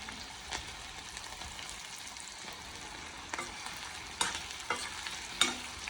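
Food frying in oil, a steady crackling sizzle with sporadic sharper scrapes and taps from stirring that grow a little louder toward the end, close by, without speech.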